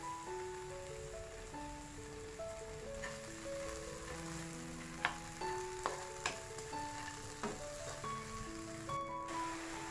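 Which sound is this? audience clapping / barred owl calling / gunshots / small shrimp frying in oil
small shrimp frying in oil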